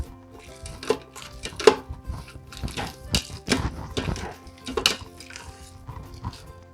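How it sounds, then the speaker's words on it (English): Potato masher working cooked rice and beans with milk in an Instant Pot: repeated soft, muffled thuds and squelches in an uneven rhythm, close by. "Add milk and mash up using a potato masher."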